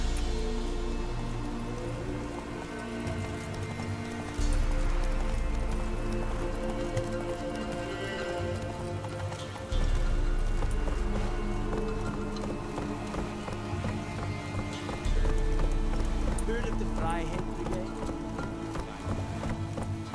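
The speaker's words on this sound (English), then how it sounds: "Whoa there, Roach." Horse hooves clip-clop at a steady running pace in The Witcher 3, with a dense game music bed playing throughout and no speech.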